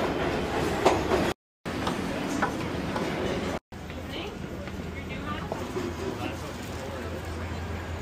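Subway train ride in New York City heading toward Central Park, a steady rumble and rattle of the moving car with brief dropouts, voices talking over the noise throughout.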